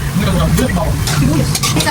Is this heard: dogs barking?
no